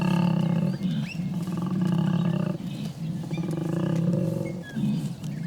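A koala bellows in deep, rasping, low-pitched pulses produced by continuous inhaling and exhaling, a loud close snoring roar with short breaks between phrases and no talk.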